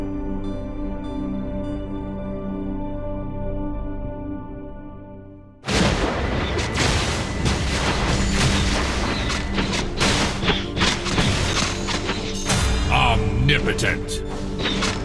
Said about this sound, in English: The enemy's turret has been destroyed.